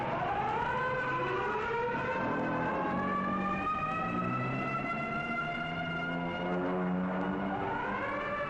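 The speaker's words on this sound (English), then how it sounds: "At 10:35, the banshee wail of the siren echoes the warning" A civil defense warning siren from a 1955 US civil defense film wails continuously, its rising and falling pitch sweeping slowly, steady and fairly loud with no voices over it.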